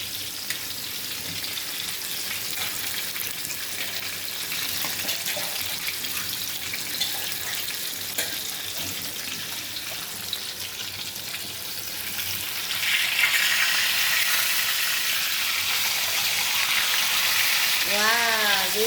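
Fish fries in plenty of oil in an iron pan, with a broad continuous sizzle that grows louder in the second half, and faint voices in the background.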